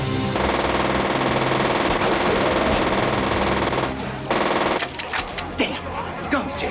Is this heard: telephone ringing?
no